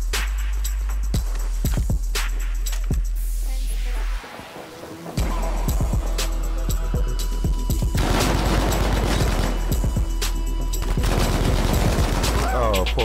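Gunfire in the battle royale mode Battlefield V Firestorm, with dense crackling volleys and bursts running throughout, a brief drop-out midway, then heavy continuous fire resuming, loud and close.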